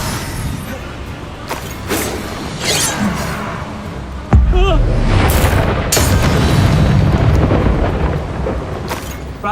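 Bombarda blasting spell in Hogwarts Legacy during a duel, loud booming explosions with a heavy blast near the middle, plus whooshing spell effects and sharp cracks over a rumbling battle bed, voices heard among them.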